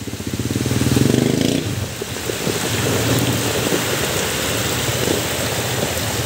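Heavy typhoon rain pours steadily in Tanay, Rizal, a loud, dense, unbroken hiss of water hitting surfaces, with a rumbling swell near the start before it settles into an even roar.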